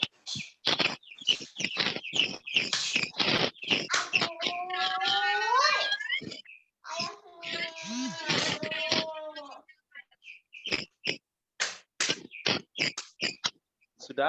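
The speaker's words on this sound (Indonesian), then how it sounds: "Kalau suara burungnya nggak usah dimatikan, nggak usah, biarin aja dia berkicau." A caged bird sings nearby in a lively run of rapid chirps and sweeping whistled trills, with short pauses between phrases, close and fairly clear against a quiet indoor background.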